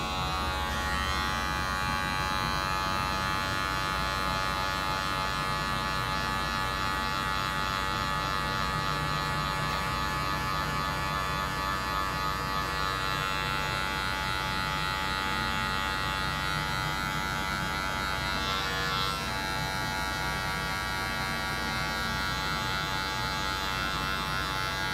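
An electric hair clipper buzzes steadily through a barber's flat top cut, a continuous close electric drone with slight shifts in tone as it moves through the hair.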